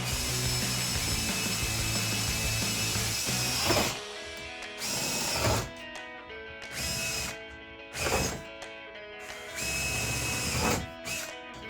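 A power drill bores access holes from the backside for rear spoiler bolts on a 2010-2014 Mustang, running in several short, loud bursts separated by brief pauses, with no voices.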